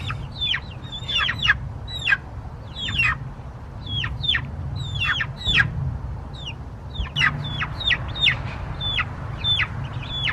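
Young chickens in a flooded chick coop at dusk cheep and cluck constantly, many overlapping high calls close by over a low background rumble.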